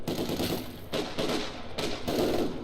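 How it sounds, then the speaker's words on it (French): Heavy machine gun section firing in a real-time war strategy game, several rapid bursts separated by short pauses, loud and close amid a busy battle din. "Section de mitrailleuse, lourde, prête."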